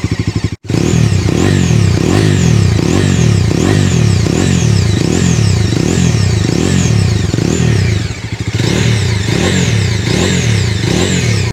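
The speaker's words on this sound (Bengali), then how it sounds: "বাইকটার সাউন্ড আপনাদেরকে একটু শোনানোর চেষ্টা করে" A 2025 Bajaj Dominar 250 single-cylinder motorcycle with a twin-barrel exhaust revs repeatedly in loud, close rhythmic bursts. Throttle blips rise and fall steadily, with a brief drop in engine note partway through.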